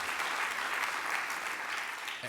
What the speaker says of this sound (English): So a big round of applause for Steve.